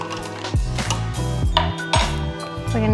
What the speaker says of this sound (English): We're gonna give this a stir.